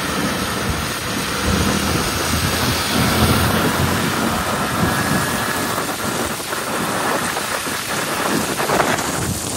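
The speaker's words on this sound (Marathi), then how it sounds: "भरपूर पाऊस पडतोय" Heavy monsoon rain pours down steadily in the hills at Lonavla, a dense, loud hiss that never lets up, with a faint low rumble underneath.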